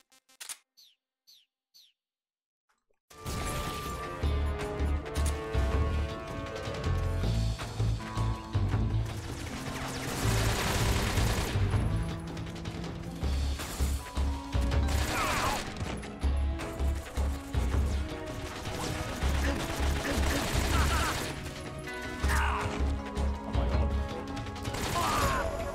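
A big gun firing in Metal Gear Solid 3: Snake Eater: after a near-silent opening with a few faint clicks, dense bursts of loud gunfire and booms run nearly continuously, layered with game music and effects.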